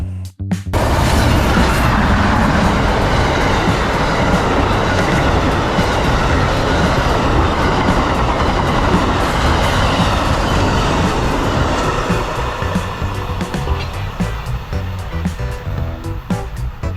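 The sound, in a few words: passenger train, Genesis locomotive leading, Siemens trailing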